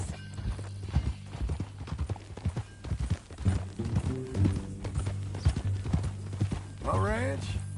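Video game horse hooves from Red Dead Redemption 2 clip-clop in a steady walking rhythm beneath ongoing conversation, with a horse's whinny near the end.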